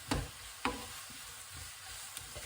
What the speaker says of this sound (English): Get the heat through those noodles.